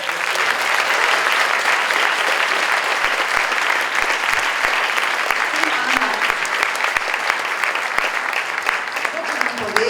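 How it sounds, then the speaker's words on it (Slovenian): An audience at a school talent show claps for a poet named Ana, a dense, sustained round of applause throughout with a voice briefly audible underneath. "lahko zaploskamo pesnico"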